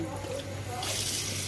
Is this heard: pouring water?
yes